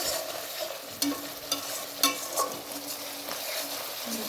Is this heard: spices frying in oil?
yes